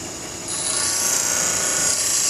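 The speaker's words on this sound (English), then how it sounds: "So I'm going to have to grind the tip away." A bench grinder grinding the tip of an HSS lathe threading tool, a loud steady hissing rasp that starts abruptly about half a second in and holds constant.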